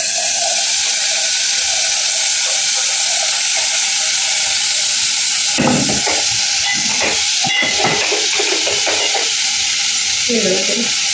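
Tomato dropped into hot oil with ginger and turmeric for an egg curry, a constant loud hiss and sizzle with bursts of stirring and clatter partway through.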